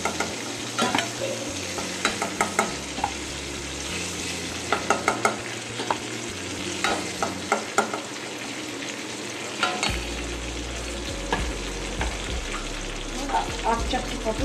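Pointed gourd (potol) pieces are lifted out of and dropped into sizzling oil in a pan, a continuous frying hiss broken by repeated clattering utensil scrapes and splashy crackles, growing louder midway, no talking.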